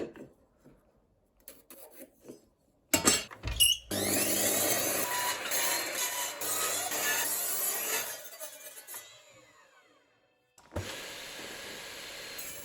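Power saw cutting boards of several wood types to rough shape, a steady loud whining roar lasting several seconds, then fading, followed by a second burst of cutting near the end, with bumps and handling before it.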